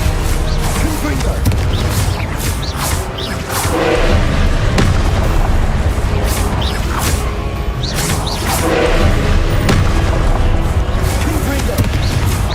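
Repeated booming explosions from the Confringo fire spell in Hogwarts Legacy, loud and dense with whooshes and crashes, continuing under game noise and talk throughout.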